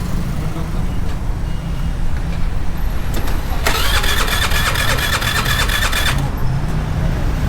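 A scooter that has sat unused for two days is started, its engine catching midway and running with a loud, steady buzz for a few seconds before cutting off, over constant background noise.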